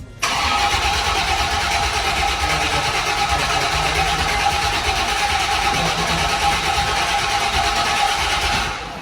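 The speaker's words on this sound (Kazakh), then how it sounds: "Мен қазір барып, аккумулятор алып кеп, салып, Rolls-Royce'та оталдырайын деп жатырмын." A 1979 Rolls-Royce Silver Shadow fitted with a fresh battery starts and runs steadily, its engine a loud, constant close-up roar filling nearly the whole stretch before cutting off at the end.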